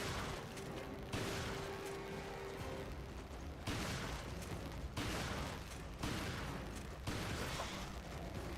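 Grenade blasts and gunfire in a shooter video game, a dense steady roar of shots with several sharp booming bursts at regular intervals, loud and continuous throughout.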